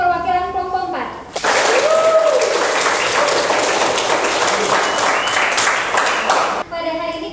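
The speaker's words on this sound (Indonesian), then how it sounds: "Beri tepuk tangan untuk perwakilan kelompok 4." A high school maths class breaks into applause for a group representative, loud, close clapping that starts abruptly after a teacher speaks and stops about five seconds later as talking resumes.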